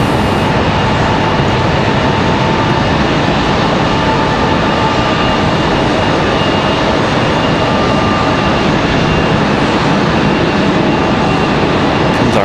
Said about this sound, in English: Comes our Cessna from Nantucket.